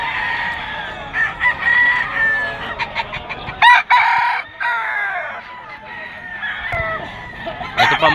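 Young rooster (stag) of round head sweater bloodline at an outdoor pet market in Bocaue, Bulacan, crowing and clucking loudly and close, several bursts over a busy background.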